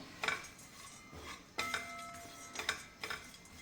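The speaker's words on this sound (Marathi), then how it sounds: "तर आता खोबरं भाजून झाल्यावर आपण काजू भाजून घेणार आहे" A spoon scrapes and clinks against a kadhai while cashews are dry-roasted without ghee, giving a few sharp metallic knocks and scrapes over a quiet background.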